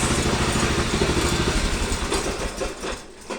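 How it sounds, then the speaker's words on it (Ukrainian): A walk-behind tractor engine runs steadily nearby in a garage, where it drives lighting. The chugging, clattering idle stays fairly loud throughout and eases slightly toward the end. "мотоблок працює нам на благо"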